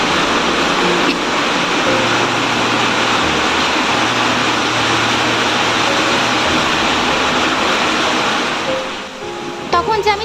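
A dense, unbroken roar of heavy rain beats on a rooftop at close range and holds steady for most of the clip, then thins slightly near the end as a few faint knocks and voices come through.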